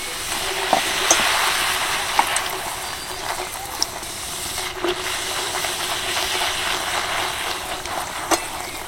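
Fuchka puris sizzling in hot oil, three at a time, a dense continuous hiss and crackle close up with a few sharper pops and spatters.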